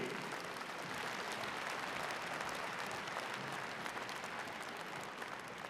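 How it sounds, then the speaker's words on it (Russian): An audience in a hall applauds prize winners at a harvest festival ceremony in Vitebsk; steady, even clapping heard faintly and from a distance. "громкими аплодисментами награждаем победителей"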